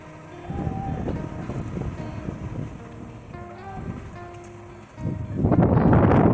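Strong wind gusting through an opened window during a dust-laden rainstorm, a rough broadband roar that swells sharply and stays loud toward the end, with faint voices earlier.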